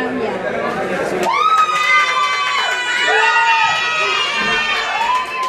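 Crowd at a singing competition grand final on stage cheers and shouts loudly, with high-pitched whoops and calls sustained throughout, likely mixed with applause.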